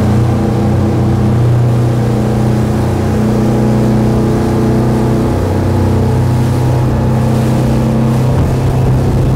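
A 40-foot Sea Ray SLX 400 motorboat runs at speed, its loud engine drone steady and close, with water rushing and slapping against the hull throughout.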